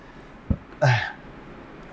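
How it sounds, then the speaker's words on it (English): A single short, close human burp breaks a quiet room, with a soft click before it and faint breath afterward. "Sorry, I had to burp."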